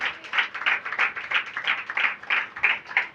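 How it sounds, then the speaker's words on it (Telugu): Church congregation applauding during a sermon, a steady run of brisk handclaps pulsing in quick waves, fairly close and unaccompanied by talk. "చప్పట్లు కొడదామా?"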